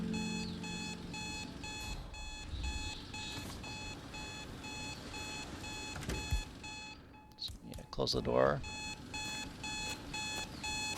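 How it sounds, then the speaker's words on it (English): A repeating electronic alarm clock beeps steadily in a Hitman video game level set in Santa Fortuna, ringing on throughout with brief talk and other game sounds over it. "Wait for him to turn off the alarm,"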